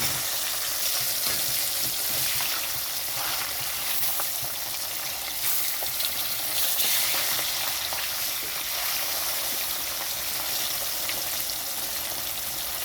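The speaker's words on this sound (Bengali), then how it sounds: "মাছটা বেশি ভাজবো না, হালকা দুটো সাইড" Hilsa fish fries lightly in oil, a dense, steady hiss of bright sizzling that stays fairly loud and even from start to finish, with no voices over it.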